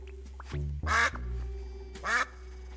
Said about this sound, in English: I didn't know I had a quack button. Press Q to quack.